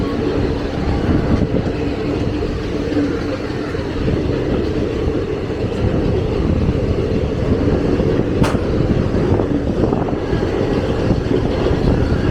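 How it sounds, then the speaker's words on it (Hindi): An Indian passenger train pulling out of Bangalore Cantonment station, a loud, steady low rumble of wheels and carriages that stays at one level throughout, with a brief clank in the middle. "और हमारा डिपार्चर फिलहाल हो चुका है"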